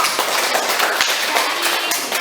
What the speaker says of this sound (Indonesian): Terima kasih, tepuk tanganmu.